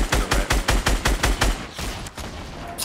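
Fortnite gunfire in a squads match: a rapid burst of about nine evenly spaced loud shots, then several scattered, fainter reports and clicks.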